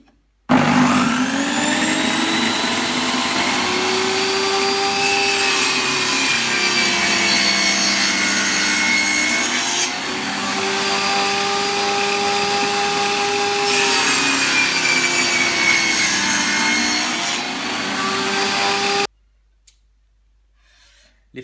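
A saw cuts rabbets into a wooden board for a Dadant beehive, a loud, continuous cutting whine held for nearly twenty seconds with slight shifts in pitch as it works, then stopping abruptly.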